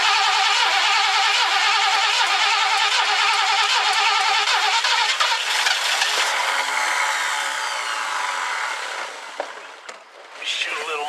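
A 1969 Ford Club Wagon engine is cranked with the choke pulled, a loud, continuous, rough mechanical churning heard up close that fades toward the end before a short final burst.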